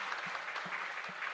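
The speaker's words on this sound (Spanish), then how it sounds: "Fuerte aplauso entonces." A church congregation at a patronal feast claps steadily, a dense wash of many hands applauding together, fairly faint and without voices.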